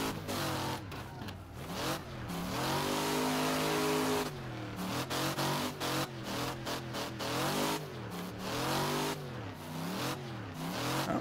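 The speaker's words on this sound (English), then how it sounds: "That was a decent little drift there." A modded Piper MKII car in Wreckfest revs and drifts around a track, its engine note repeatedly climbing and falling with tire screech, loud and close throughout with no talking.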